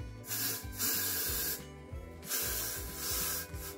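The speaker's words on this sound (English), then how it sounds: "I'll spray this holding spray." A can of hair holding spray hisses in several short bursts, close by, separated by brief pauses.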